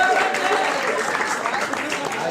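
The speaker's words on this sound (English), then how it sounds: "Harrison, a round of applause." A comedy show crowd claps in a thick, continuous burst of applause, with voices talking over it.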